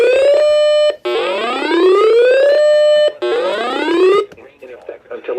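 EAS emergency alert header tones play on NOAA weather radio: two loud, close bursts of harsh, buzzy data tones, each followed by a rising sweep. A short gap separates them, and faint noise trails after.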